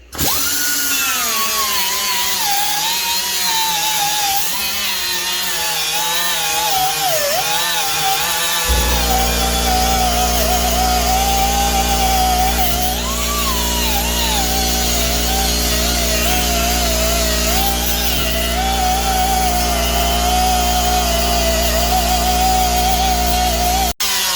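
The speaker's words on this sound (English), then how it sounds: "We've got a used bit here, or a used sanding pad, 60 grit it looks like" A Snap-on right angle die grinder with a 60-grit sanding pad whines steadily and loudly while sanding rust, its pitch wavering under load, then settles into a constant high-speed drone for a long stretch.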